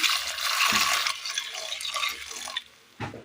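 Water pours steadily into a pressure cooker holding plantain, beans, carrot and salt, with a splashy rushing sound for a few seconds, then trickles and stops.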